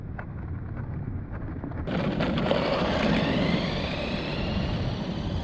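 Enoze Subzero 1/16 dual motor RC truck on its slow setting, motors whining softly then rising into a louder, steady electric drone with wheel and gear noise once throttle is applied, no talking.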